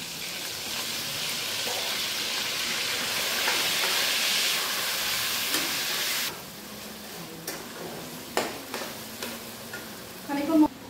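Ginger, cumin and green chilli paste hits a hot pan with a loud hissing sizzle that swells, then settles into quieter frying broken by scraping stirs and clinks of a spoon.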